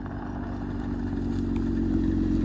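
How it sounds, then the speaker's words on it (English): A Hyundai Tucson engine revs very high in neutral after a jump start, giving a loud, steady, droning roar that holds at high pitch without easing off. "I heard it sound like it was in neutral and revving super high there."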